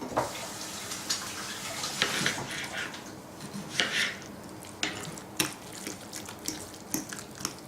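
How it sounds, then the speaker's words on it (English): Tap water running steadily into a sink while hands are washed, a continuous close hiss broken by splashes and small clinks of dishes, no talking. "wash my hands"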